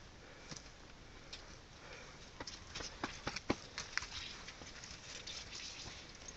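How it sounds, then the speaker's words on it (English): Faint, irregular hoof clops of a big horse on hard ground during an elk hunt at Tex Creek, scattered over a steady noisy background, with a few sharper knocks in the middle. "A big horse."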